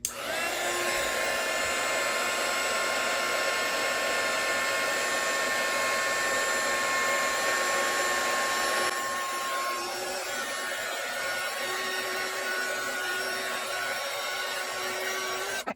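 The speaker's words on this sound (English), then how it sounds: "I am now going to get out my embossing heat gun and we're going to melt it" An embossing heat gun runs steadily and loudly throughout, a continuous blowing whoosh with a high whine, as it melts bonding powder for foiling; its pitch shifts slightly partway through.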